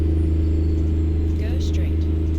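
A K100E truck engine drones steadily at a low pitch while climbing a slight hill in American Truck Simulator. The rumble is loud, even and unbroken throughout, with only faint higher noises passing over it.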